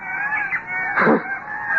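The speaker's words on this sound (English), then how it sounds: "The seagulls again." In a horror radio drama, a single loud, harsh cry meant as a seagull rises and fades close by over a faint background hum. No one speaks during it.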